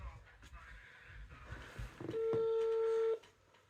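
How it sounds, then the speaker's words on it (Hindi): A mobile number being dialed on a phone: a person talks first, then one clear, steady electronic call tone rings out for about a second amid faint background noise. "नंबर मिलाते हैं ना, अभी पता चल जाएगा कहाँ पे है।"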